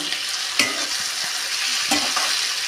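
Tomatoes and green chillies fry with browned onion in a pan, giving a steady, dense sizzle with a few stirring scrapes and clinks over it.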